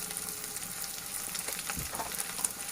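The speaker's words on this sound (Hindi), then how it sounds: "उसके बाद मैं इसमें चॉप हरी मिर्चें डालूंगी और स्लो फ्लेम पे फ्राई करूंगी।" Chopped green chillies and onion sizzle quietly in a pan over a slow flame, a soft continuous frying hiss with a faint stir or scrape.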